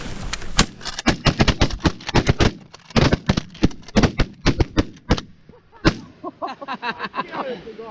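Shotgun volleys fired at geese by a group of hunters lying in layout blinds in an early-season field, a rapid barrage of loud sharp blasts overlapping one another, then a few scattered shots and distant goose calls.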